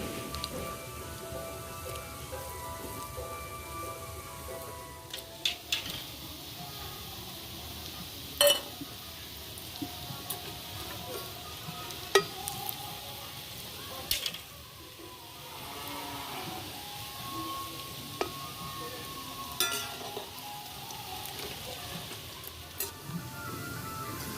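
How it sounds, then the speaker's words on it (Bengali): Soybean pakoras fry in hot oil with a continuous soft, rain-like sizzle, broken now and then by light clinks of a utensil against the pan. "দেখুন পকোড়াগুলো আমি ব্রাউন করে ভেজে নিয়েছি, এবার তুলে নেব।"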